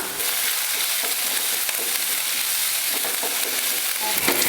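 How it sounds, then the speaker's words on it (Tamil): Onions and green chilies sauté in a pan with a steady, close crackling sizzle and occasional stirring scrapes, heard alone and fairly loud throughout. "இப்போ இதை வதக்கி விட்டுறலாம்."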